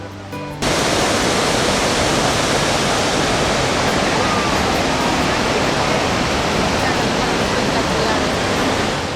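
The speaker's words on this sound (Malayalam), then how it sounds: "കാതടപ്പിക്കുന്ന ശബ്ദത്തോടെ ഭൂമി കുലുക്കിക്കൊണ്ട് ഇഗ്വാഗു പതഞ്ഞു പതഞ്ഞൊഴുകി വീഴുന്നു" Iguazu Falls in Brazil roars as a steady, dense wall of rushing, crashing water, loud and unbroken from just after the start to the end.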